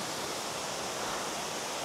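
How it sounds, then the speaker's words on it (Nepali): A small cascade just above Laukea waterfall in Nuwakot, heard as a steady, soft broadband rush of falling water, even and unbroken, with no voices. "यो चाहिँ लौके झरनाभन्दा माथि रहेको सानो छहरे हो"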